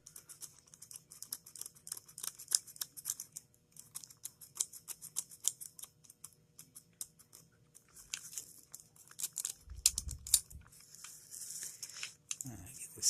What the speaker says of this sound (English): Get this contactor really good. Just going to scrape these.